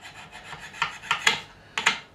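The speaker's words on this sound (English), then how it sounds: "Wait till you see this one scraping off right now." Metal scraper rasping grime off a fret on an Ibanez Roadstar II RG200 electric guitar neck during a refret, a series of short close scrapes, building to several sharper strokes near the end.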